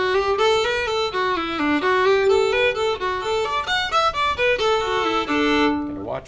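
Close solo fiddle plays a variation of The Eighth of January, quick bowed phrases with double stops moving through the tune before a final held note cuts off.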